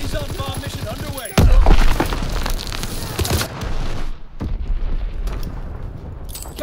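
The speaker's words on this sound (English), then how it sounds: "Azon bomb mission underway." Heavy bomb blasts from an Azon bomb strike in Call of Duty: WWII, a sudden loud boom followed by rolling rumble and scattered crackling detonations, with game announcer voice lines around them.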